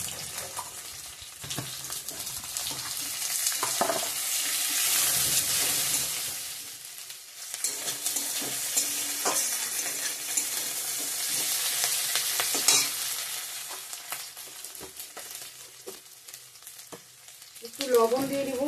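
Dried red chili, bay leaf, whole cumin and onions frying in hot oil for an Indian fish curry with potato and tomato, a steady close sizzle with stirring scrapes that swells and eases, ending in a brief clatter.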